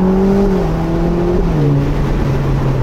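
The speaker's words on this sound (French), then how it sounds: "on a un rupteur qui est très agressif comme sur une voiture de course" A Ferrari Roma Spider sports car engine drones loudly close by in race mode with a dual-clutch gearbox, its pitch stepping and dipping unevenly rather than climbing to a sharp bouncing limiter.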